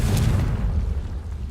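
A single deep, rumbling boom from a Confringo explosion spell in the video game Hogwarts Legacy, loud and low, decaying over about a second.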